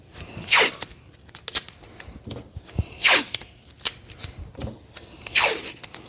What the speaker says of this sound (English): Let's get ourselves a couple pieces of tape going here.